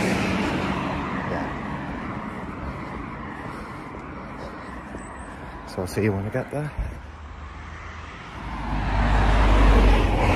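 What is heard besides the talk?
road traffic noise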